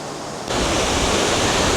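Water rushes down between rock tubs in a stream gorge at Seven Tubs Nature Area, Pennsylvania, a loud, steady broadband roar that swells in abruptly after a quieter start and holds without pause.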